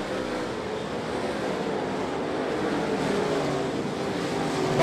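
Modified race cars lapping at Ponderosa Speedway, a dense continuous engine roar from the field that holds steady and swells slightly toward the end.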